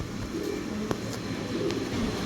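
A Chinese owl pigeon gives soft, low coos, a few gentle repeated calls close by over a steady background hum, with no talking.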